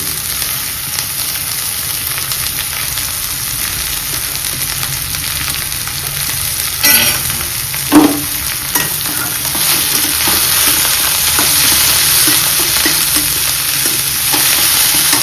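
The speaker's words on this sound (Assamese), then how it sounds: "পিঁয়াজখিনি আমি লাইট ব্ৰাউন হোৱালৈকে অলপ ফ্ৰাই কৰিম" Onions fry in a small amount of oil, making a steady close sizzle, with a couple of louder stirring scrapes midway and the hiss swelling slightly toward the end.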